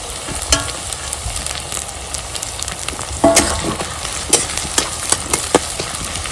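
Chopped green chilies and onions fry toward brown in a pan, with a steady close sizzle. Repeated clinks and scrapes from stirring break through the sizzle, growing more frequent in the second half.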